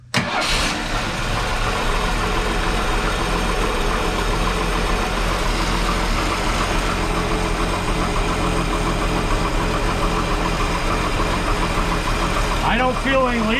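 A 1961 Ford Falcon Delivery, fully choked, cranks briefly, fires and settles into a steady, loud idle that holds for over ten seconds with a faint whine near the end.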